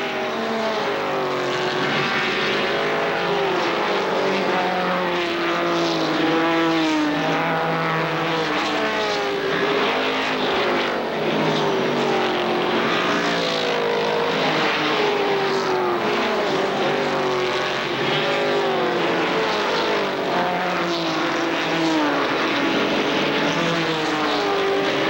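ARCA SuperCars race at Kil Kare Speedway, with loud engines roaring past continuously as lapped cars get passed, forming a dense, steady, close roar across the field.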